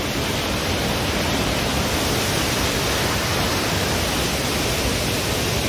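A waterfall on the Kedarnath pilgrimage trek from Sonprayag roars close by as a loud, unbroken rush of water that masks everything else.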